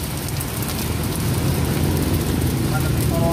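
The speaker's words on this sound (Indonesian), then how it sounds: "Ini cuaca lagi gerimis-gerimis gimana tuh." Light drizzle falls steadily outdoors on a quiet evening, a soft continuous hiss with low rumbling background noise, fairly close and even throughout.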